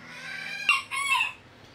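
A rooster crows close by among hens, one strong crow with clucking around it against a quiet yard background.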